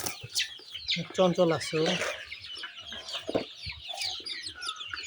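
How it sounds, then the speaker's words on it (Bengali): Deshi village chickens cluck and chatter while feeding at midday, a flock of about a hundred, with a voice speaking briefly over the busy, close fowl sounds. "আমাদের দেশি মুরগিগুলো ভালোই খাচ্ছে"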